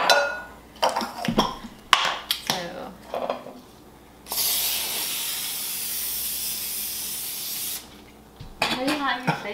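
A steady hiss of cooking spray lasts several seconds, preceded and followed by clattering pans and brief kitchen noises.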